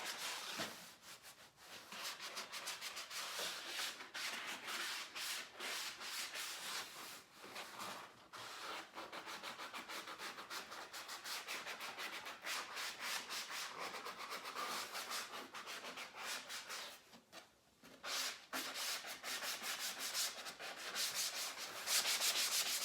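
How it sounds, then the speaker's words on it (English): Sandpaper rubs back and forth over painted upholstery in a continuous, close scratchy scraping, with a few brief pauses and no talk. "just to sand it down and make it smooth again"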